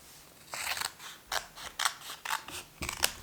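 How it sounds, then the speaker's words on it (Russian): A paper packet is torn and opened by hand in a quiet room, a run of about seven short, crisp rustling and crinkling bursts at an uneven rhythm, close and clear with no talking. "Дальше откроем вот этот пакетик."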